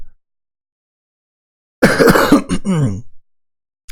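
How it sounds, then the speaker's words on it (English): A short burst of throat clearing and coughing, loud and close, a few rough bursts over about a second and a half, then silence. "I've been having this cough for past 4 days now."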